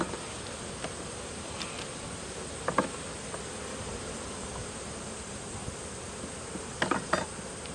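Honeybees hum softly and steadily throughout an open hive during a fall inspection, a faint continuous drone with a few brief clicks and knocks of frames being handled.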